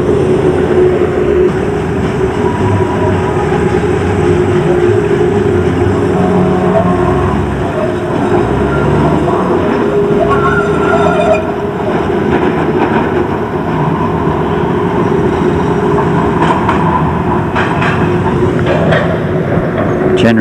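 A Pittsburgh streetcar rolling past near the mouth of the tram tunnel, a loud, continuous rumble of wheels and motor that stays close and steady throughout, with brief squeals rising over it.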